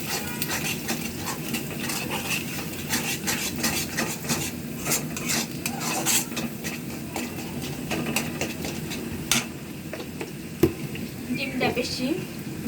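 Batter for cabbage pakora is stirred in a bowl with turmeric powder and salt, giving a busy run of close scraping, sloshing and small clicks of a utensil against the bowl that continues steadily throughout.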